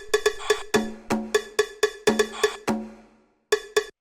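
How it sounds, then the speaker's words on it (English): Cowbell sample in a disco house track, struck in a bright, clipped syncopated pattern of about a dozen hits over four seconds, with a short gap before two final strikes; no voices. "like the cowbell doing the"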